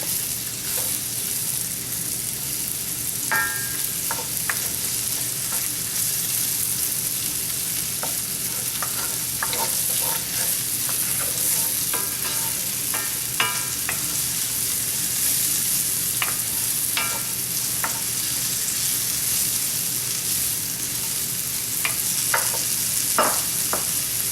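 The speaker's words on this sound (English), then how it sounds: "I'm going to start to saute our beautiful onion here." Onion sautés in a pan over medium heat, a steady close sizzle running throughout with scattered spoon scrapes and stirring clicks, no voices.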